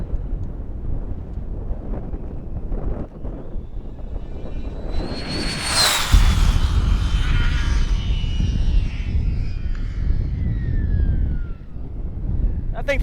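A Traxxas Slash 4x4 RC car built for 100 mph speed runs accelerates hard and whizzes past outdoors, a high-pitched motor whine that swells sharply to a close peak and then falls away in pitch, over steady wind noise.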